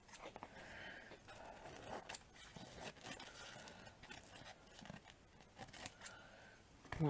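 Scissors snip through decoupage paper on a small craft plaque in quiet, close, irregular cuts, with faint rustling of paper between them.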